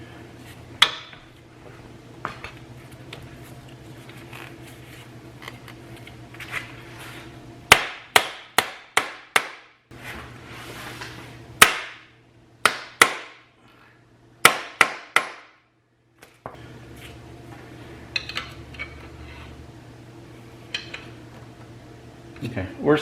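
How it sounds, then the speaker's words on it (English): A CV axle on a Chevy Equinox V6 is hammered to seat it in the hub, sharp metallic blows in quick bursts with pauses, close and loud, over a low engine-like hum. "we're just going to tap that and get it seated,"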